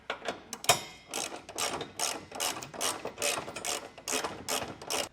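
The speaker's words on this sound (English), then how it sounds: "we'll snug all these down with a 3/4 inch socket" A ratchet with a 3/4 inch socket snugs down trailer hitch bolts on a 2022 Nissan Rogue, giving a close, steady run of rapid clicking strokes with brief pauses between pulls.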